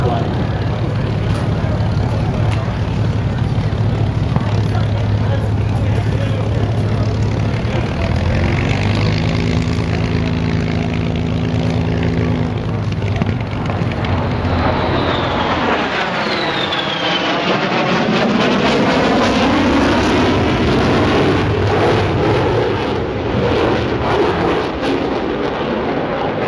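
A propeller airplane at an air show flies over, its engine drone rising and shifting pitch as it passes overhead, loud and continuous throughout with a strong Doppler sweep midway.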